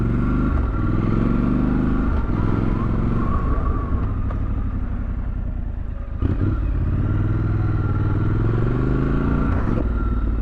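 Triumph Scrambler 1200 XE motorcycle ridden off-road, its engine droning steadily and loudly throughout with small rises in revs and some clatter, close to the rider and with no talk.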